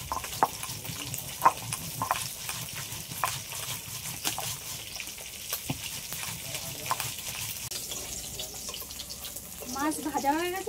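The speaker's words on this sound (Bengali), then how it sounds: "মাছ ভাজা হয়ে গেছে, এবার আমি তুলে নেব" Fish frying in a pan, a moderate crackling sizzle broken by clatter and bumps of handling, fairly close, getting busier near the end.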